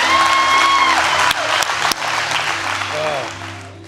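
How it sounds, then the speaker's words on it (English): Church congregation applauding to celebrate a baptism, dense sustained clapping that fills the room and slowly thins out, with voices and a few tonal sounds mixed in over it. "So give her a hand clap of praise again, would you?"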